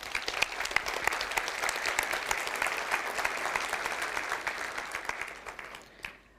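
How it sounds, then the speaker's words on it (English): Audience at a C++ programming conference applauds a speaker being introduced, dense steady clapping filling the room for several seconds before tapering off to a few final claps. "Please give a warm applause to Victor Ciura."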